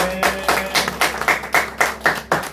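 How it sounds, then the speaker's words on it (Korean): A church congregation claps together in a steady rhythm, about ten sharp unison claps close by, with little else heard. "주님께 영광의 박수 올려드립니다"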